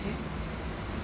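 A local train runs along the line from Uran toward Mumbai, heard from inside as a steady, faint rumbling drone with a thin high tone above it, continuous over a brief moment.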